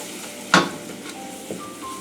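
A roux of melted butter, fat and flour cooks in a pan, giving a soft, steady sizzle broken by a sharp stirring scrape and a second, quieter one, with no talking.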